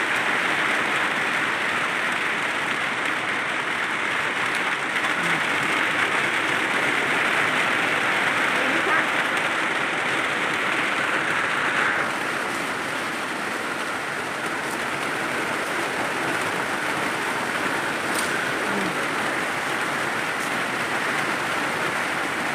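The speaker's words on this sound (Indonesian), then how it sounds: "hujannya deras jadi berhenti dulu" Heavy rain pours in a steady, dense hiss that fills the whole span without pause, loud and close with no clear breaks or individual drops standing out.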